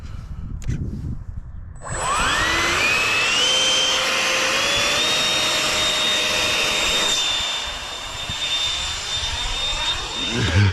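A FliteTest Flerken jet-powered RC plane on its maiden flight spools up into a loud, steady turbine whine that rises in pitch and holds, then fades as the plane moves away in calm, windless conditions.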